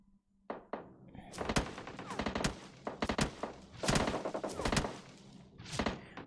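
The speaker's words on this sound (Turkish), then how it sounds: "Öbür taraftaki adam vuruyor." Gunfire in a shooting video game, irregular single shots and short bursts with thumping impacts, close and moderately loud, with voices talking over them.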